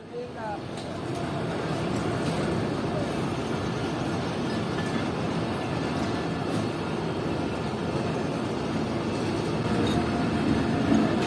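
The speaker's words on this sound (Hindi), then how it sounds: "फिर ट्रेन तकरीबन 5 मिनट रुकने के बाद पन्नौआ के रेलवे स्टेशन से निकलने लगी।" The Khyber Mail train pulls out of Pannoaqil railway station with a steady rumble and rattle of carriages that builds slightly toward the end, heard from inside the coach.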